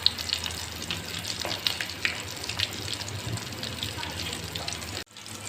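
Chicken lollipop pieces frying undisturbed in a pan, giving a continuous close sizzle with small pops and crackles that cuts off abruptly near the end.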